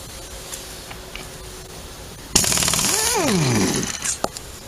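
An impact wrench fitted with a 3/4 inch impact socket rattles loudly in one sustained burst, loosening lug nuts on a 2000 Ford Explorer, its pitch dropping and trailing off, then a couple of sharp clicks follow.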